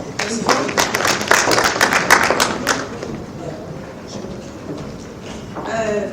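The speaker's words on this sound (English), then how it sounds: "A round of applause again." Applause at the 3rd Biennial Health Conference on Sustainable Development Goal 3, with sharp, distinct claps in a fairly close, uneven rhythm that thin out and fade to a quiet lull before a voice begins speaking.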